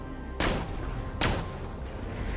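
Two sharp, booming shots about a second apart from the Volcano sniper rifle firing fire bullets in Borderlands: The Handsome Collection, each with a crisp crack and fading tail over a steady game background.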